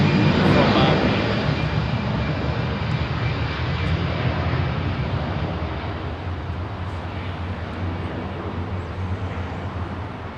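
BEA airliner landing on runway 27R at Heathrow, a loud close engine roar that is strongest at first and then eases to a steady rumble; a voice can be heard over it.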